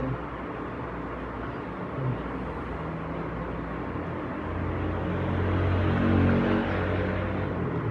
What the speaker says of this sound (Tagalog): Naririnig niyo yung mga motor,